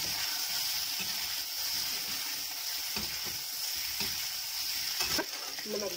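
Steady sizzle of diced potatoes frying in hot oil with a red chili powder tempering, continuous and close, with occasional soft stirring scrapes from a spoon in the pan.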